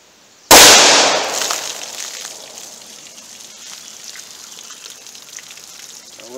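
A single sharp, loud gunshot from a .357 Magnum revolver with a 2-inch barrel, firing Barnes VOR-TX 140-grain rounds into a test box, cracks out close by and fades into a long ringing decay.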